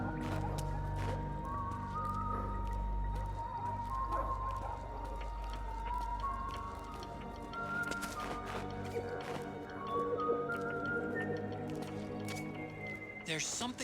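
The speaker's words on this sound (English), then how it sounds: "Do you hear whistling?" Rising and falling whistled tones come from the Metal Gear Solid 4 video game, several short phrases heard against game ambience with wet squishing and dripping effects, while a player talks over them.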